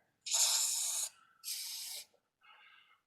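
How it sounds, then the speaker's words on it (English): Three hissing bursts of rust-proofing aerosol spray into a car door latch, two long and strong followed by a shorter, fainter one, with brief quiet gaps between them. "I'm going to spray a little bit in the latch here."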